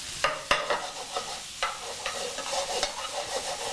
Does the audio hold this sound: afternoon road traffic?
no